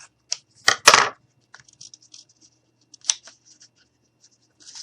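Scissors cut cardstock down to size for a mini cardboard house, giving a few crisp, close snips followed by faint scattered rustles and small taps.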